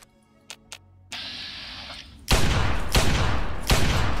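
Pistol gunfire in the Fallout 3 video game: a couple of sharp clicks, then loud dense bursts of shots with heavy noisy blasts, close and dominant.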